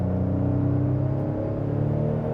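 A new Ford Explorer's turbo engine accelerating from inside the cabin, a loud, smooth rising drone with layered harmonic tones, steady and continuous without speech.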